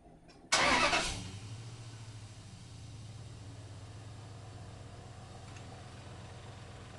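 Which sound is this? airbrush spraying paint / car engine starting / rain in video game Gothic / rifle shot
car engine starting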